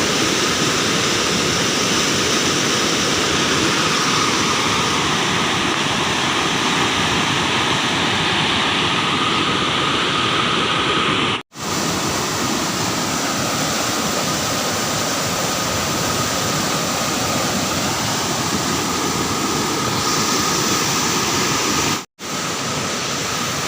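A loud, constant roar of the fast-flowing Baitarani River rushes on without pause, broken only by two brief cuts.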